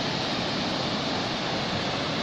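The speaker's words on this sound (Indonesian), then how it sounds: "air terjun yang cantik" Steady roar of the Temurun waterfall in the Anambas Islands amid green forest, a continuous broadband rush of falling water filling the scene without pause or voices.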